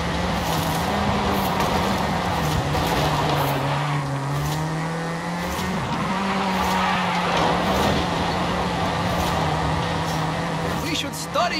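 Car skidding in Forza Horizon 5, with a steady loud engine drone and tire noise running through the whole stretch, the pitch sagging and rising as traction comes and goes, and a brief rattle near the end.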